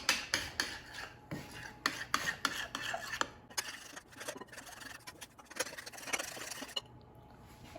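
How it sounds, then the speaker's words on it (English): Almond flour blueberry cake batter being stirred with a utensil in a bowl, giving rhythmic scraping and tapping strokes, close and fairly loud, with no talking. "And now let's mix until combined."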